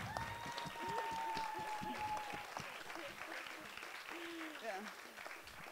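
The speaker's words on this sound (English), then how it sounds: "give an applause to our VRVienna team" An audience applauds the VRVienna team at an evening talk, steady clapping through the whole stretch with a voice speaking and whistle-like tones over the top.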